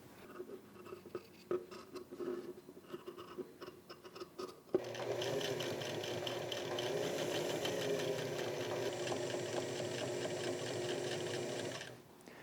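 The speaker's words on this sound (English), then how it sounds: "Moving on to finishing up the sides of the shirt, doing the hem at the bottom," Sewing machine hemming the bottom of a button-up shirt. Halting short bursts and handling noises come first, then a steady close mechanical whir for about seven seconds before it stops.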